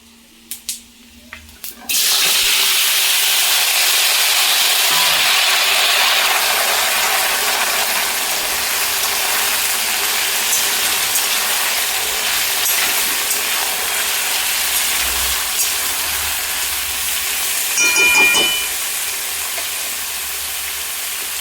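Cut vegetables for a rui fish head and pui shak chorchori hit a hot pan and break into a loud, steady sizzle after a couple of quiet seconds, holding evenly with a brief clatter near the end.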